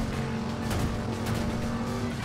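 Engine roar of a 1970s Dodge Challenger R/T driven through San Francisco streets in the Driver San Francisco video game, steady and loud throughout, with a brief tire squeal midway and no voices.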